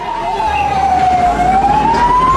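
An ambulance siren wails loud and close, one smooth sweeping tone gliding down and back up over a rumbling vehicle, with no voices.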